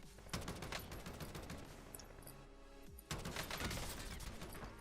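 Gunfire in Call of Duty Warzone: two dense bursts of rapid automatic shots, the first lasting about two and a half seconds, a short lull, then another sustained burst, fairly loud with no speech.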